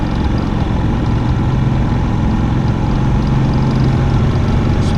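A Predator 3500 watt super quiet inverter generator from Harbor Freight runs nearby, with a continuous, even engine hum and no breaks or changes in pitch.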